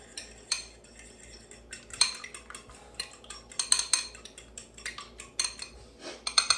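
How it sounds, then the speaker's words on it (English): A utensil beats eggs in a bowl to blend yolks and whites for meatloaf, giving rapid irregular clinks and scrapes against the bowl, close and fairly quiet, with no talking. "I'm just gonna beat these a little bit just to make sure that the yolks are mixed"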